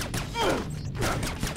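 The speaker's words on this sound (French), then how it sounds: "Je tire à l'aveugle" Blind-fired bursts of gunfire in the Splinter Cell video game: two quick volleys of sharp shots with whizzing, ricochet-like sweeps, fairly loud and close, separated by a short pause.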